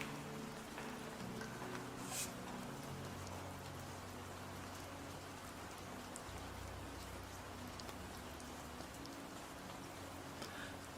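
Steady rain falls without a break across the whole stretch, a soft even hiss with scattered drop patter, and no one speaks over it.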